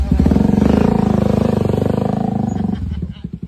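A motorcycle engine chugs in a steady, fast, pulsing rhythm up close, then fades and sputters out toward the end.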